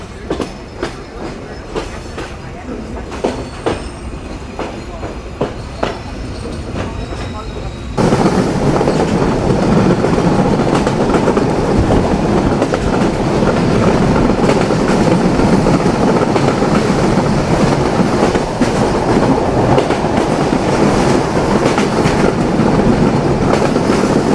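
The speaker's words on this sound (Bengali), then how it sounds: "তবে আজ রূপসা এক্সপ্রেস মোটামুটি টাইম মেনটেন করেই চলছে" Rupsha Express passenger train running on rails: faint clacks under a voice give way to a loud, steady roar of wheels and carriage rumble that continues to the end.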